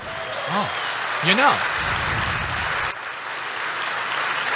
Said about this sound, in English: In fact, give them a round of applause.